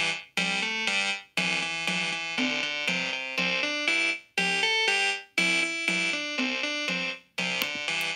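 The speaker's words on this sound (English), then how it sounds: "And then after that, I added some percussion, again, repeating a pattern that I thought sounded good" Repeating electronic melody built in Chrome Music Lab, bright synthetic tones over a looping percussion pattern, phrases restarting roughly every second or so, steady and fairly loud with no talking.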